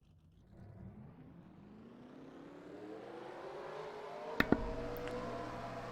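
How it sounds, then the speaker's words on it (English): A field of 40 race car engines rolling on a pace lap at Atlanta in a racing video game, a faint hum that slowly swells louder, with two sharp clicks near the end. "All 40 drivers now rolling on the racetrack for the pace lap."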